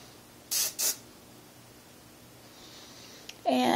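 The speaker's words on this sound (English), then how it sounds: "I just give my hair a little spray and just put it into position" Two short hissing bursts of hairspray misted onto styled hair in a Hollywood-style look, each lasting about a third of a second, fairly close, followed by quiet room tone.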